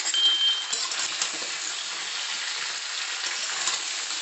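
Mixed vegetables with salt and turmeric powder fry lightly in a pan, giving a steady, even sizzle that runs unbroken and fairly close throughout.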